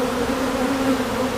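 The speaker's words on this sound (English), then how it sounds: "make sure all the bees made their way back into their colonies" Honeybees hum in a steady, close drone during a beehive inspection at Cole's Farm in Jacksonville, North Carolina, a low continuous buzz with no voices.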